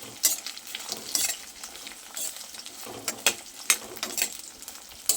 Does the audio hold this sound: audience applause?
no